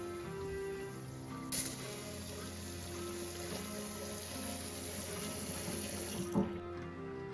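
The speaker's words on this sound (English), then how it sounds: "See, here it's leaking, and you have water which is dropping all over the pipe." Water runs and splashes steadily at a leaking kitchen sink drain, a close continuous hiss with a couple of soft knocks near the end.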